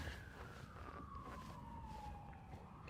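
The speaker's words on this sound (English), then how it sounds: "I hear sirens in the back." A distant siren wails faintly in the background, its tone slowly gliding downward over a low traffic hum.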